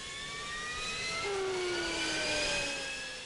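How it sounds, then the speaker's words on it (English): Twin engines of an F-15 fighter jet roar at close range from the cockpit before taxiing, a steady loud whine with rising and falling tones that swells gradually and holds. "The engines begin to roar, and we taxi to the runway."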